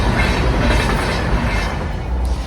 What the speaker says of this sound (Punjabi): ਉਹ ਟ੍ਰੇਨ ਲੰਘਦੀ ਪਿੱਛੇ